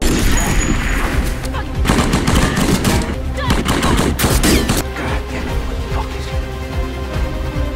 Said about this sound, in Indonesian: terjadilah aksi saling tembak di antara mereka